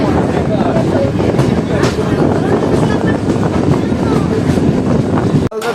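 A Sealdah-bound local train at Lakshmikantapur railway station makes a loud, continuous rumbling roar mixed with heavy wind buffeting on the microphone, with people talking underneath, ending in a brief abrupt cut.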